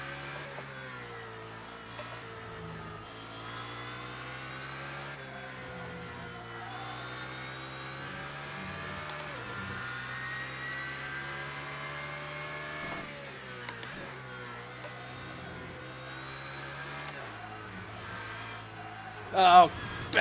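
Race car engines in an Assetto Corsa race, GT2 cars among them, whine steadily throughout at fairly low level, rising and falling with gear changes and throttle.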